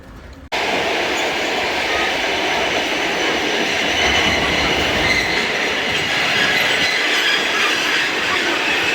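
A passenger train passes close by, a loud continuous roar of rolling wheels and rail noise starting abruptly and holding steady throughout, with no voices.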